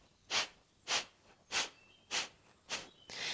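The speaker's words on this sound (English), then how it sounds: "Breath of Fire looks and sounds like this." Breath of Fire (Kapalbhati) breathing: six sharp, forceful nasal exhales in a steady, even rhythm about half a second apart, close and clear, with no talking.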